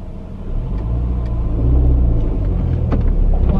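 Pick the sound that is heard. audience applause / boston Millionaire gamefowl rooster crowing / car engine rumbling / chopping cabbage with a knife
car engine rumbling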